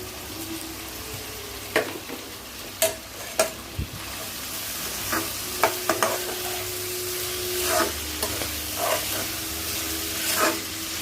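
Beans, carrot and capsicum stir-fried together over a high flame for chicken hakka noodles: constant close sizzling hiss broken by sharp spatula knocks and scrapes against the pan every second or so.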